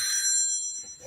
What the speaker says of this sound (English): it's kind of hard for me to talk when that phone's ringing